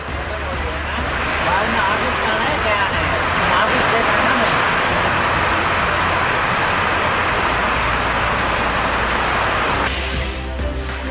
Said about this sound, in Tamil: காற்றுடன் கனமழை கொட்டி தீர்த்தது